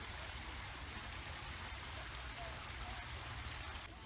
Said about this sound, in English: And the waterfall that leads into the pond.